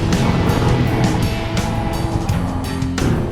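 An Audi A3 with a 1.8 TSI petrol engine pulls hard out of corners on a race track, a loud, rough, continuous engine roar with brief surges as the throttle comes on.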